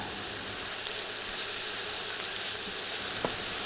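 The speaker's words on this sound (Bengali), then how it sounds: "রসুন বিশ সেকেন্ডের মতো ভেজে দিচ্ছি" Garlic paste frying with chopped onion in a pan for a mixed vegetable curry, a steady even sizzle with one small clink near the end, no talk.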